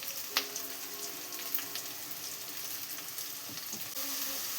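Garlic paste frying in oil for chicken gravy, a steady close sizzle with faint clinks of stirring and no talk.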